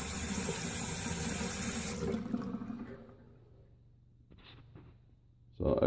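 A faucet fed by a 12-volt pump runs hot water in an off-grid cabin, a steady loud rush of water that cuts off after about two seconds, leaving a faint low hum and a few small knocks.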